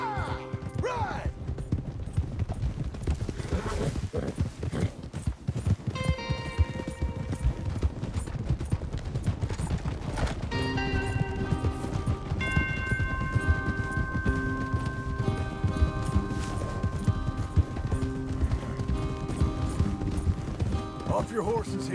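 Hooves clip-clop in a fast, steady gallop as horses are ridden across open ground in the video game Red Dead Redemption 2, with an occasional whinny, game music and voices talking over them.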